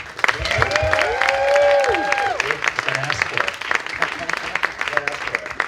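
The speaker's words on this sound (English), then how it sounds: "Can we please give a round of applause for Todd Arnow?" A panel audience gives a round of applause for television producer Todd Arnow, clapping and a few cheers nearby while voices talk and a sustained tone sounds over the crowd.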